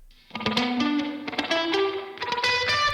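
An electric guitar played through a spring reverb with no prefilter: a short melodic phrase of plucked notes, each followed by a full, boomy, splashy reverb tail rich in low mids, with no voices.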